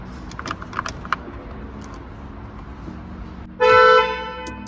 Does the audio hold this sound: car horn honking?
yes